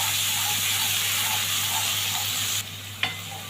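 Garlic dropped into hot oil mixed with butter and ghee, a loud close crackling sizzle that drops slightly near the end, followed by a single sharp clink.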